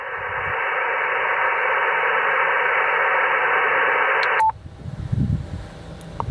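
Yaesu ATAS-120 motorised antenna retuning to 21 MHz through an FTX-1 radio: a steady loud buzzing whine that stops abruptly, then quiet hiss with a few faint clicks, no talk.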